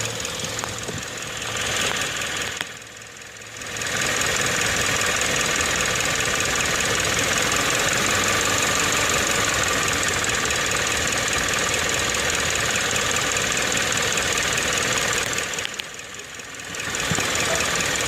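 A car engine idles steadily with the air conditioning on and the compressor turning, giving a close, even mechanical hum and rattle that dips briefly twice.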